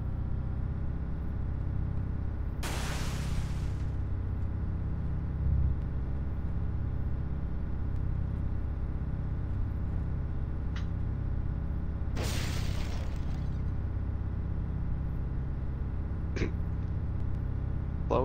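A vehicle in the video game Arma 3 drives through water, a low steady engine drone with two loud splashing surges and a few brief sharp clicks.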